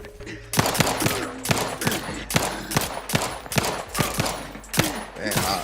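Gunfire in the video game Outer Worlds 2: a steady string of roughly a dozen sharp, loud shots at fairly even intervals, with some ringing tonal game sounds in the background and no talk.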